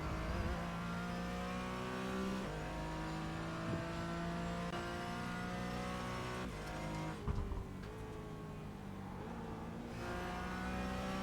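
Porsche Cayman driven at full throttle around Zolder circuit, the engine note climbing steadily through gears with a brief shift dip, loud and sustained from onboard.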